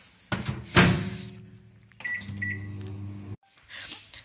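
A microwave oven roasting peanuts: a door thump and clunk, then a steady low hum of the running oven, a brief pause, and a softer closing sound, with no speech.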